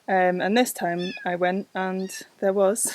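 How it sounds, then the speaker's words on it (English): A tiny young kitten out in the woods gives brief, high-pitched meows in the background, mostly buried under a person talking closely over it. "a tiny little kitten that he was shouting at"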